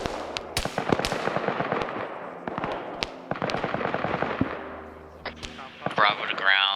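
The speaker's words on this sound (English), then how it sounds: "Rounds are landing short" Artillery rounds landing in a tactical shooter game: a dense barrage of sharp cracks and booming impacts fires in rapid irregular bursts, loud and close, with a few heavier thumps and clattering near the end.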